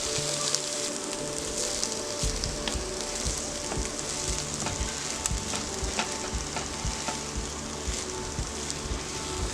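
Mushrooms and mixed vegetables stir-fried in sauce for a desi Chinese dish give off a dense, continuous sizzle with rapid, rhythmic tossing and scraping of the spatula throughout.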